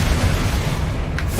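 A Bombarda explosion spell in Hogwarts Legacy, a loud, dense booming roar of blast noise filling the whole moment, heavy low rumble throughout.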